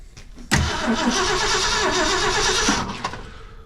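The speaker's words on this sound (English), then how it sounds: "we'll fill up the carburetor and see if she'll crank and stay running" A 1966 Ford Fairlane 390 V8 engine cranks steadily with a rhythmic churning whir, loud and close, for a few seconds before stopping.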